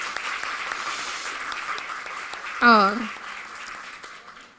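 An audience at an education talk on inclusion and diversity in Aracaju applauds steadily at moderate volume, with one brief voice exclaiming over the clapping near the end.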